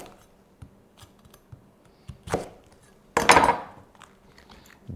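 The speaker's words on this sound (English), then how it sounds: "And cut out the hard triangular core from each half," A knife cuts the hard triangular core out of a halved fennel bulb on a board. Soft taps and small crunches lead up to two louder, crisp slicing crunches, close by.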